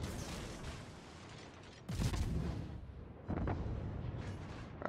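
The warship Khabarovsk's guns fire from inside a smoke screen in a naval video game, a loud booming salvo at about two seconds followed by a second heavy blast a moment later, over a constant rumbling battle backdrop.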